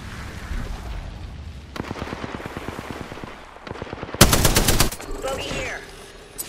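Gunfire in a first-person battle royale shooter, with a long run of rapid, evenly spaced automatic shots followed by a louder, denser volley, all over a busy game background.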